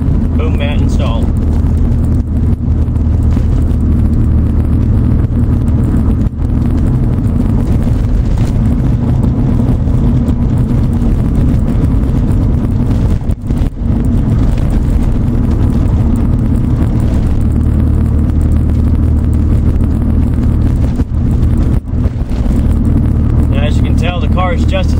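Steady low road rumble and tire drone inside a Nissan 240SX S14 fitted with DEI Boom Mat, cruising at about 43 mph on a bumpy road, loud and continuous with occasional thumps from bumps.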